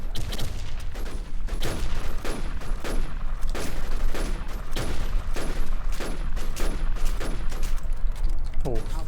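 Dense, loud gunfire from a shooting video game, with rapid bursts and single shots overlapping in a continuous barrage for the whole stretch, close up and dominant.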